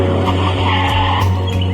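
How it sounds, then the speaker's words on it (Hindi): A car arriving in a hurry, its tires skidding and squealing against a steady engine drone, loud and close, with no talk. "ये मैनेजर साहब की गाड़ी इतनी जल्दी क्यों आई है?"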